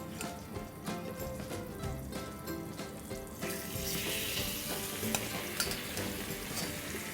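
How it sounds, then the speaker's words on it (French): Endives are laid into a hot pan of butter and olive oil with some clattering, and a sizzle builds into a fuller, steady frying hiss nearby. "Et on les dépose dans la poêle."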